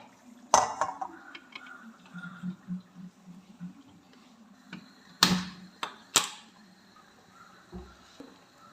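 A kadai set down on a kitchen stove while cooking beef curry gives a few sharp metallic clanks spaced apart, with quieter clinks and rattles of cookware between them in a calm kitchen.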